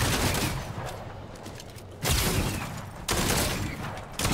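Shotgun fire in the Fortnite battle royale game, loud blasts with sharp onsets near 2 and 3 seconds and again near 4.2 seconds, over dense, noisy game action with no talk.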